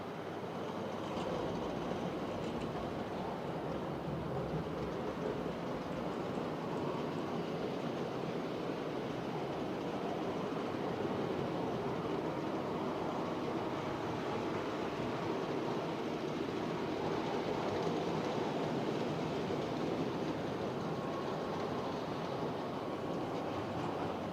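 A steady, continuous rumble and clatter of small trains running on track, unbroken throughout with no talking.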